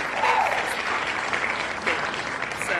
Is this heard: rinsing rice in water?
no